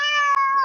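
A single short, clear cat meow rings out close and loud, rising then falling over under a second with no other sound.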